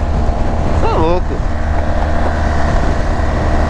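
A 1200 cc motorcycle cruises along a road with a loud, constant roar of engine and rushing wind. A brief rising and falling vocal sound cuts through near the one-second mark.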